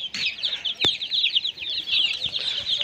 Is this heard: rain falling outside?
no